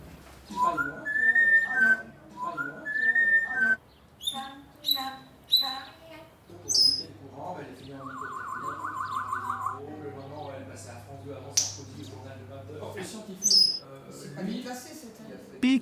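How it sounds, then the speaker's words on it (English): A parrot whistles in a series of bright, tonal chirps and trills, some sliding up and down, close by, alongside brief vocal sounds and a steady electronic hum. "the parrot starts whistling."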